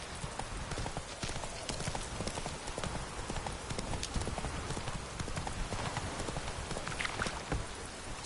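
Hooves of the horse Roach in the video game Witcher 3, clip-clopping in a steady, continuous rhythm over a constant wash of ambient noise, fairly close and moderately loud, with no distinct talking.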